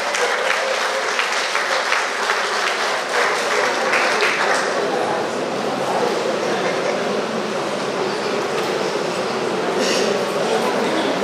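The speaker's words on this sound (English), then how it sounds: "Give him a round of applause." Sustained applause from an audience at a retired persons' association monthly meeting, honouring a member celebrating a birthday; steady dense clapping fills the whole stretch with faint voices underneath.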